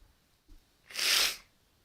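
A single sneeze bursts out alone after a brief faint sound, a sharp breathy rush that swells and fades within about half a second in a quiet setting.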